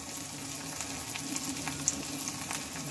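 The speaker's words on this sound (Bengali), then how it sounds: "মশলাটা ভালোভাবে এটা এখন আমি কষিয়ে নেব" Spice paste with turmeric, salt and chili powder fries and sautés in a pan, giving a soft, steady sizzle with light crackles and occasional stirring scrapes.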